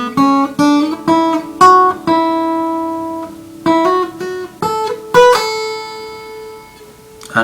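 An unaccompanied guitar plays a quick phrase of plucked notes from the Top Gear theme tune, some attacks soft and slurred as fingers hammer onto and pull off the strings.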